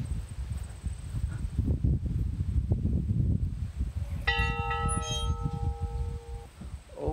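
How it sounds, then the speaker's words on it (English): A single bell atop an old country schoolhouse rings out once with a clear, sustained metallic tone over rustling outdoor background noise, ringing for about two seconds before fading. "Bell on the top."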